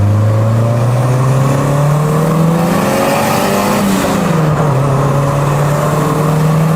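A DIY bolt-on turbocharged Honda Civic of about 300 hp accelerates hard. The loud engine note climbs steadily, dips at a gear change and then climbs again, heard close up with no talking.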